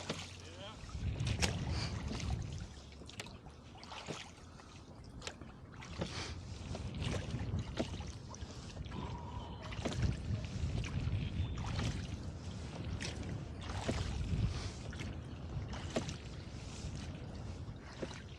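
Gusty wind buffets the microphone while a boat is rowed on the Napa River, a faint, rough rumble with repeated knocks and splashes from the oars and muffled voices.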